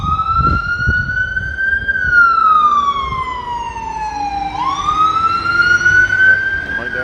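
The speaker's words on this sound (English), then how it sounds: "That sounds like an ambulance." An ambulance siren wails down a residential street, loud and close, its tone sweeping up and down in long glides as it approaches, with faint background noise beneath.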